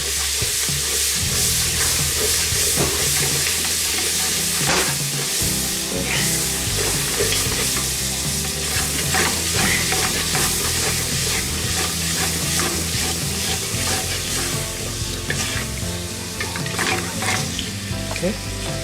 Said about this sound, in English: let's add the tomatoes that we chopped pieces and give it a stir